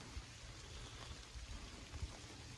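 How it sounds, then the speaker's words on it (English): Light rain falls at a campsite, a soft steady patter with occasional low thumps of drops, faint and close, with no talking. "I don't know if you can hear that, but it started to rain."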